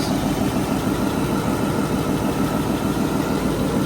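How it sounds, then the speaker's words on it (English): A 1963 Cadillac DeVille convertible's V8 idles steadily and smoothly up close, a constant low rumble with no voices. "nice engine bay, motor just idling real still there."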